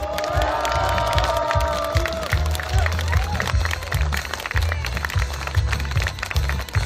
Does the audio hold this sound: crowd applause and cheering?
yes